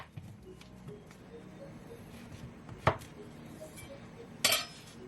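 A knife cuts a banana for a smoothie, a few sharp, faint taps and knocks on a cutting surface at irregular intervals against a quiet kitchen background.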